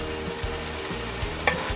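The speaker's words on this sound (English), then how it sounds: "So we get to stir fry." Beef stir-fries with onion and garlic in a pan, a continuous close sizzle broken by rhythmic scraping strokes of a utensil, with no voices.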